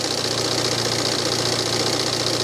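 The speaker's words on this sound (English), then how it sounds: "Engine seems to be running nice and smoothly." A car engine idling steadily after removal of its EGR valve, a smooth even hum with a low droning tone and no voices, constant in level throughout.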